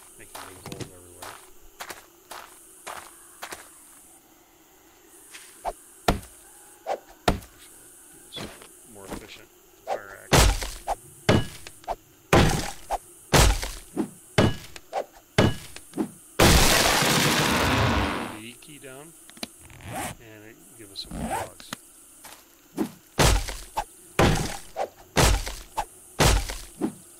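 Wood and logs being chopped and gathered in the zombie survival video game 7 Days to Die, a rapid run of sharp repeated impact thuds with a brief noisy burst midway, over faint game ambience and occasional speech.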